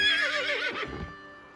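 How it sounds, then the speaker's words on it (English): A horse whinnies once, close and loud, in a dramatic TV scene. The neigh rises and then trails off in a shaky, falling tone that fades out, with no talking over it. "I'm talking to horses."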